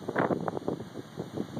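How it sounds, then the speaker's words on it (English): Strong gusty wind buffets the microphone outdoors in an upstate New York field, with gusts around 45 to 50 miles an hour, a close, rough, surging rush that swells and eases in uneven waves. "The gusts are like 45, 50 miles an hour. They're brutal."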